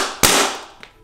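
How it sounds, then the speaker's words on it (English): A plastic water bottle struck sharply with a palm gives one loud, gunshot-like pop that decays quickly, followed by a faint smaller tap, close up. "Basically, you can make very loud noise with water bottles."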